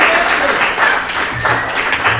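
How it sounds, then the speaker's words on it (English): Guests at a wedding reception break into steady applause that fills the room, moderately loud and continuous, with faint voices mixed underneath. "You can clap for that. That's okay. You can clap."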